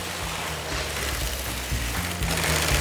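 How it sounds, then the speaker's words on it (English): An industrial sewing machine stitches PVC panels for a bouncy castle, giving a continuous loud mechanical whirring drone with a low rumbling hum, close and steady throughout. "can you hear the sound of the sewing machine?"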